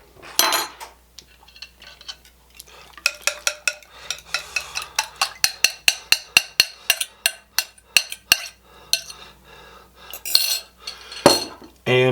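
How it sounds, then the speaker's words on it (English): A spoon stirring chopped vegetables and crumbled bacon together in a bowl, a long run of rhythmic, close scraping clinks, steady and quick in the middle and tapering off. "I'm going to add some crumbled bacon, about not quite a half of a slab of crumbled bacon. We're just going to mix that together."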